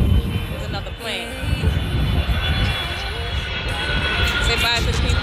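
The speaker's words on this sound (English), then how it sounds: "There's another plane." A fixed-wing airplane roars steadily overhead at an outdoor event, a broad continuous engine rumble filling the background while people talk nearby.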